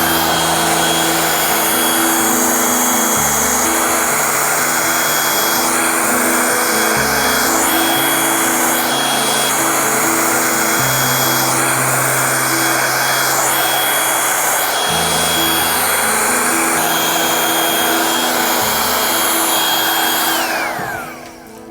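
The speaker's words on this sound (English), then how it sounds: "So I'm going to get my trusty hairdryer on it," A hairdryer blows steadily and loudly for about twenty seconds, its motor pitch shifting slightly at intervals, then cuts off abruptly at the end.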